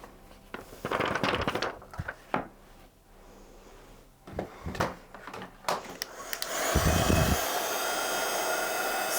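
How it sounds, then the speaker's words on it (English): A heat gun melting embossing powder on a stamped flower image for a card blows a steady, loud whooshing hiss from about seven seconds on, after scattered clicks and handling noises. "we'll hold that heat gun still, and then as soon as that embossing powder starts to melt and change, we'll move the heat gun over the image"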